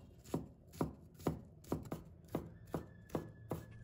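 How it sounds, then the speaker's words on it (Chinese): Half a red chili pepper is cut into strips with a knife on a board: eight steady, evenly spaced chops, close and crisp, with a little rubbing between strokes. "再准备半根红椒，把它切成丝，"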